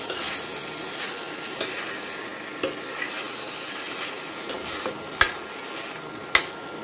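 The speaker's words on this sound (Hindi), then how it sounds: "अब इसको मसाले के साथ में मिक्स करने जा रहा हूँ।" Button mushrooms mixed with spices sizzle in a pan under a spoon, a continuous soft frying hiss with scattered sharp metal taps and scrapes, close and without talk.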